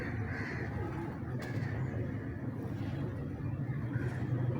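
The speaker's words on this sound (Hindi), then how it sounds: "ये टैडी कबूतर है" A teddy pigeon kept by a breeder coos in low, continuous murmuring calls, fairly close and steady throughout, with a faint background hum and no talking.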